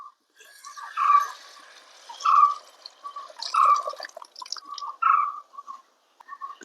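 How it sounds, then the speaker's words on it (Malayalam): Water is poured into a pan of ivy gourd curry, giving a few clear, close gurgling and trickling bursts separated by short quiet gaps, with no talking. "നമുക്ക് പിന്നെ വെള്ളം ഒഴിച്ചു കൊടുക്കാം"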